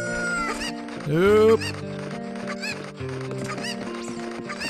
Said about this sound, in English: I like floating with chickens